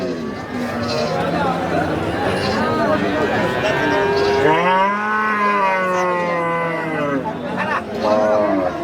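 Dairy cows lowing at a rural cattle market in Bangladesh, long drawn-out moos from several animals close by with a crowd murmuring in the background.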